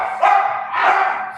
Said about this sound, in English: Sorry, I have dogs.